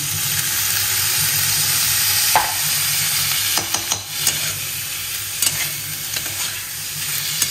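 Rice goes into a banana stem mixture frying in a pan, giving a loud continuous sizzle with scraping stirring strokes and occasional bumps of a spoon against the pan.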